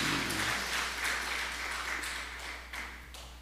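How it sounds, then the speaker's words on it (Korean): A church congregation claps together during a Sunday daytime worship service, a dense, fairly close wash of applause that thins slightly toward the end, with no speech over it. "하나님께 영광의 박수 올려드리고 싶습니다."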